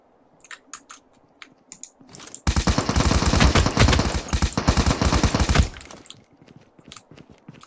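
Sustained machine gun fire in Call of Duty Mobile, a loud rapid burst of about three seconds, with quieter scattered shots and clicks before and after it.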